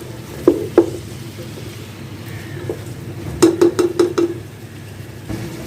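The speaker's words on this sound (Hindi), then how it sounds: "इसको 4 से 5 मिनट हम सही से भून लेंगे।" Beef for nalli biryani stirred and frying with garam masala in a pot, with a faint sizzle beneath a few sharp clinks of a spoon against the pan, including a quick run of five taps near the end.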